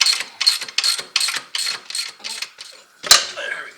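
Rapid ratchet clicking in short repeated bursts, close up, as a 15 mm nut is loosened on the bottom pin of a Can-Am Outlander ATV during wheel bearing work, ending with a sharper metallic clack.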